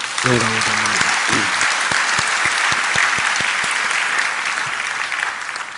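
A church congregation at Samil Church claps together in sustained, even applause after a voice speaks briefly at the start, with some sharp individual claps audible before the sound gradually thins out.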